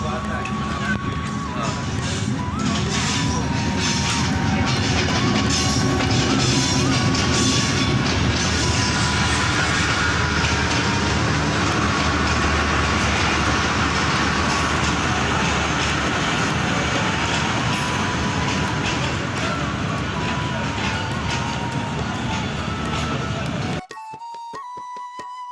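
A train passes through a railway station on Delhi Road, a loud, steady rolling rumble with rail clatter filling most of the clip before cutting off near the end; speech is faintly mixed in.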